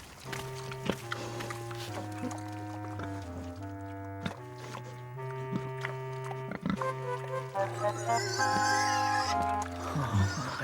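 Cartoon pigs oinking in an animated Bible story, a series of tonal grunts and squeals over a steady music bed, growing busier and louder toward the end.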